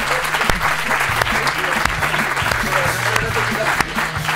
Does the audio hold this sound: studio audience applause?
yes